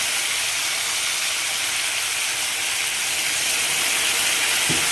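Boiling water poured into a pot of browned oxtail, giving a loud, continuous steam hiss that holds steady for several seconds with no voices.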